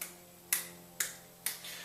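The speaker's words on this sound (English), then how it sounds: "we're going to do it fast enough to where it creates some velocity that creates that clapping noise" Three sharp, crisp claps spaced about half a second apart, made by fast hand movements with the thumb kept out during a drummer's hand exercise, each with a bright snap and brief decay in a quiet room.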